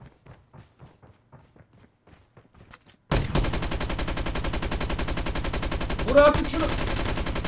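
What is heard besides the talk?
gunfire from a recoiling gun, from a video game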